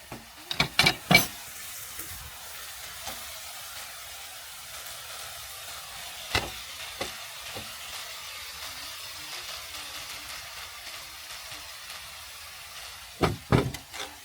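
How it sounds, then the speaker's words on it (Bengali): Pigeon meat being stirred and fried in a spiced masala for a village-style pigeon bhuna, a soft low sizzle with sharp clanks of a spoon against the pot at the start and again near the end. "নেড়ে চেড়ে কবিতরের মাংসটা মশলার সাথে আমি ভালোভাবে অ্যাড করে নিব।"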